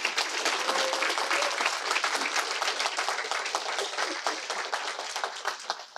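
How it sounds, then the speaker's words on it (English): Sustained applause from a university audience at a three minute thesis competition, dense steady clapping that holds loud for the whole stretch with no voices. "Big round of applause for them"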